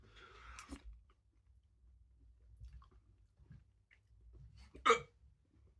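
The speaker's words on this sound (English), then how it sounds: "I'm sure you don't want to listen to me hiccuping for 20 minutes." A person eating a spicy Pepper X chicken tikka masala gives a couple of sharp, close hiccups amid quiet chewing and mouth sounds, and no one talks.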